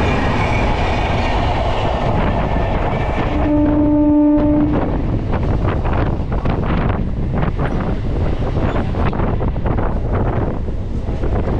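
A local train on the Bardhaman–Howrah chord line rumbles loudly and steadily throughout, heavy with wind buffeting, and a brief horn blast sounds partway through.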